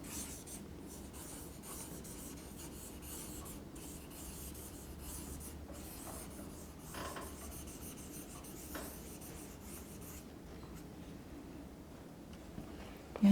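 Quiet scratchy rubbing of writing on a classroom board, faint repeated strokes spread over the whole stretch with low room noise and no talk.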